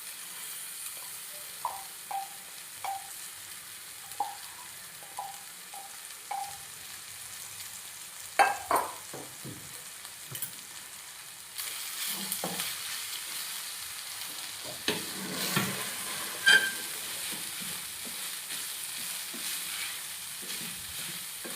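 Cooked rice is stir-fried in a pan for a lunch box, giving a faint sizzle broken by soft scraping strokes that turn busier and louder in the second half.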